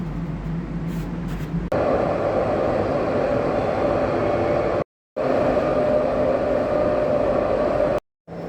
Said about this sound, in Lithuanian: Na ką galiu pasakyti apie tramvajų? Švarus, tvarkingas ir tuščias.